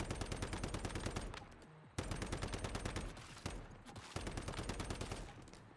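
Rapid automatic rifle fire in the survival game Once Human, with a power-surge SCAR build: three long bursts of fast, evenly spaced shots separated by brief pauses, fairly quiet overall.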